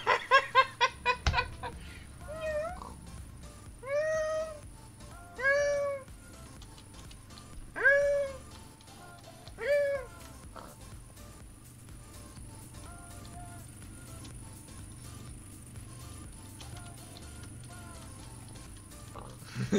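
A cat meows several times at a steady pace, five or six drawn-out calls spaced a couple of seconds apart, loud and close, with quieter background noise between them.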